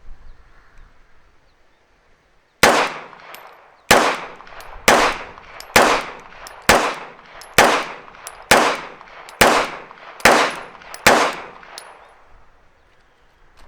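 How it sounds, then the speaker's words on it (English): Ten pistol shots from a Staccato P handgun with a Delta Point Pro red dot sight, fired at an outdoor target range in a steady rhythm about one per second, each one sharp, loud and close with a short ringing echo. "We're going to shoot at the bottom left target with the Staccato P."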